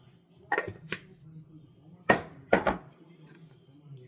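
A teaspoon clinks against a cup while sugar is stirred into a drink, with a few sharp metallic taps in quick pairs separated by short quiet gaps.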